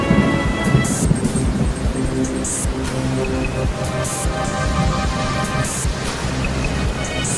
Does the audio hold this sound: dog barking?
no